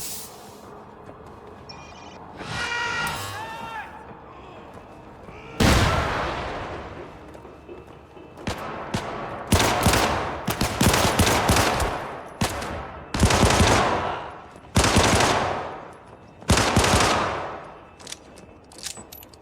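Punchy gunfire in Syndicate, a futuristic shooter, arrives as repeated loud bursts of automatic fire separated by short pauses, each volley sharp and close.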